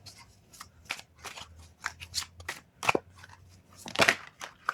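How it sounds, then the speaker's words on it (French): Tarot cards are shuffled by hand before a reading, giving close, crisp riffling and snapping bursts at an uneven rhythm, with soft paper rustles in between. "On va commencer le tirage de tarot."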